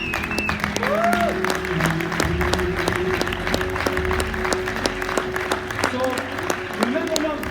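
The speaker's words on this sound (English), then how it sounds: "Give yourself a warm applause." A crowd claps steadily throughout, the applause sustained and fairly close, with voices and some musical tones mixed underneath.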